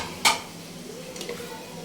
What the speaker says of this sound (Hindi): अब मैंने इसमें आलू जो थे वो कश किए थे, तो इनको आपने अच्छे से इसमें मिक्स कर लेना है